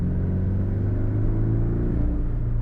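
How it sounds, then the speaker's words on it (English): Turbocharged Porsche 718 Cayman engine held in third gear at low revs while boost builds, a steady, loud, deep droning rumble heard from inside the cabin with no break throughout. "So we're in third gear. I'm going to keep it there for a second just to see when the turbos hit."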